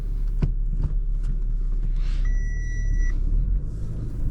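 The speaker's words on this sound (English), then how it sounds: "So let's start the car and release the automatic handbrake." An Audi A5 engine rumbles at idle close by in snowy conditions, with a couple of soft clicks early on and a steady electronic beep tone partway through, a brake error warning.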